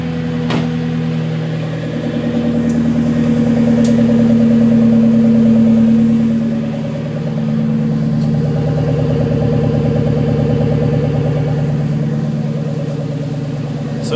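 A 2008 Shelby GT500 engine idling after a cold start in freezing weather following weeks of sitting, a loud steady low rumble with a slight rise and dip in revs, alone and close.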